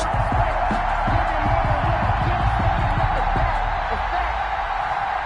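A packed stadium crowd at AT&T Stadium before kickoff of an NFL game between the Buffalo Bills and the Dallas Cowboys makes a loud, continuous roar that holds steady throughout.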